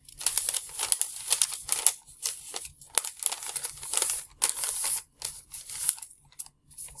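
Origami paper being folded and creased by hand, with crisp crinkles and rustles in quick irregular bursts and short pauses, close and fairly loud, with no talking.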